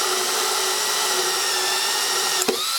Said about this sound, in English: I'm going to drill this hole in here.